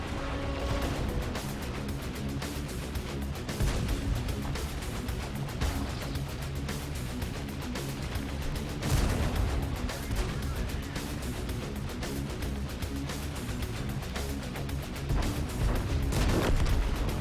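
Heavy tank cannon shots in World of Tanks, sharp booming blasts repeating every few seconds over a dense, continuous bed of game music and engine rumble.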